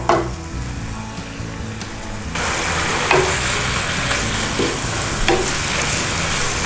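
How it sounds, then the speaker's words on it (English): Kimchi stir-fried in a pan for kimchi fried rice, a steady close sizzle with stirring scrapes that jumps louder partway through and keeps crackling, no talking. "It's a very quick stir fry this guys"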